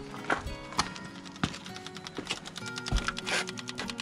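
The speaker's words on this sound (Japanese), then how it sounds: "今ポンプ動いてますね、音が聞こえるんですけども" An electric fuel pump on a Kubota RX303S mini excavator ticks with a string of sharp, irregular clicks, close by and fairly clear over a faint background hum.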